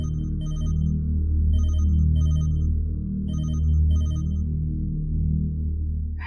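A phone ringtone rings in repeated short electronic bursts, loud and close, over a low steady background hum.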